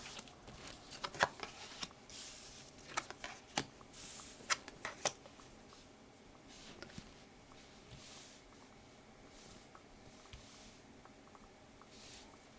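Tarot cards being shuffled and drawn, making a run of soft papery riffles and sharp slaps and flicks close by, busiest early on and then settling into quieter sliding and handling, with no voices.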